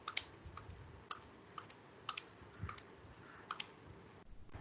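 Repeated presses of the equals key on a calculator while working a present-value-of-annuity problem, a steady series of light, close plastic clicks at roughly even intervals.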